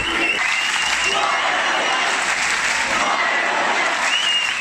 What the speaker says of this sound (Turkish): koridorlar öğrencilerin sevgi dolu tezahüratlarıyla yankılandı